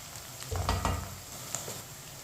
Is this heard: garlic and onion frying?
yes